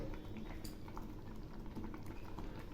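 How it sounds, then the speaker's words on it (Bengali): Thick egg curry simmers and bubbles softly in a pan, a low continuous burble with faint occasional stirring clicks close by. "আবার একটু নেড়ে দিচ্ছি দেখুন অনেকটাই ঘন হয়ে আসছে"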